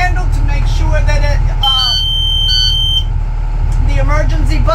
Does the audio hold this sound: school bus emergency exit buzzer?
yes